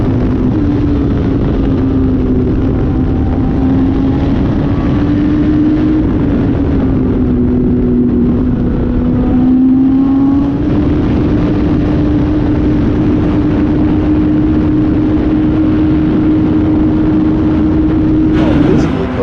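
Race car engines drone steadily on a snowy track, a continuous sustained roar holding a near-constant pitch with slight rises and dips, loud and persistent throughout, with a commentator talking over the noise.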